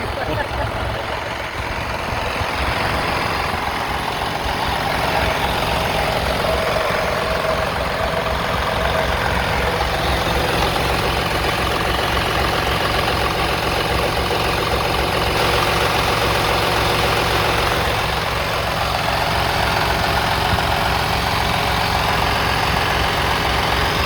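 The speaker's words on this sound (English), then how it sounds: "we're getting ready to start up the DD15, and this is the Detroit." Detroit DD15 diesel engine in a semi truck idling steadily at close range, a low continuous rumble throughout, with people talking over it.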